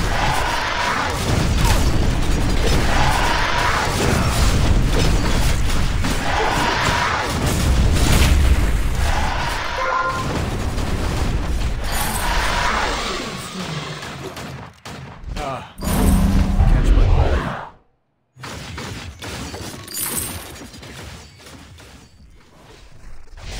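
Ringo, a Vainglory hero, firing in a 5v5 match: repeated booming shots and volleys with whooshes and crashes over a dense, loud game mix, broken by a sudden near-silent gap before quieter action resumes.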